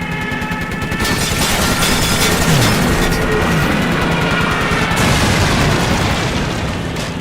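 Loud, continuous automatic fire and booming explosions in a World War II Stalingrad battle from Call of Duty, dense and close with no talking.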